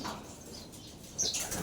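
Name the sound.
racing pigeon flapping its wings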